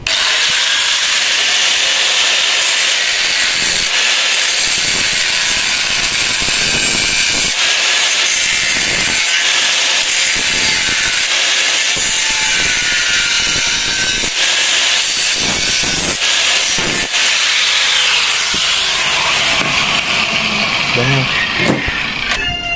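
Machine cutting Xingfa aluminium window profile by hand setup, a loud continuous harsh whine with grinding noise running throughout, steady and close.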